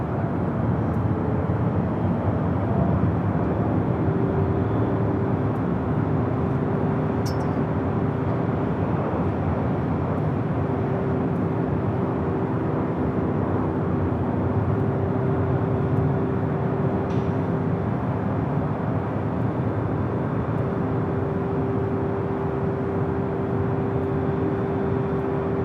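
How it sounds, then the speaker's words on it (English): A Japan Airlines Boeing Dreamliner airliner rolls toward runway 25 Right at Los Angeles International Airport, giving a steady, loud, unbroken jet roar with a faint tonal hum and no voices. "Also have the Japan Airlines Dreamliner to fly to Osaka, Japan, heading down to 25 right on the south side."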